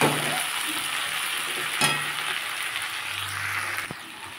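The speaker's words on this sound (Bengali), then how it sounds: "আন্দাজ মতো হলুদ, হাফ চামচ লঙ্কার গুঁড়ো দিয়ে এটা ভালো করে এবার কষিয়ে নেব।" Fish curry sautés with turmeric and chili powder in a pan, giving a steady hiss of frying and a few sharp clinks of a spoon against the pan, moderately loud and close.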